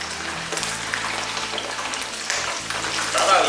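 Hairtail fish sizzles in hot oil in a wok, a continuous crackling hiss with small spattering pops over a faint low kitchen hum.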